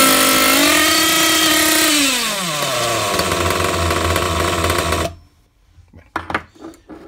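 Hyper 7 Pro nitro RC engine runs loud and steady with a high buzzing whine, its pitch dropping as revs fall, then cuts off abruptly after about five seconds, leaving a few faint clicks and handling noises.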